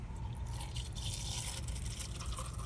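Water filling a doTERRA Lumo ultrasonic diffuser, a steady close trickle and dribble into its small reservoir, continuous over a couple of seconds with no talking.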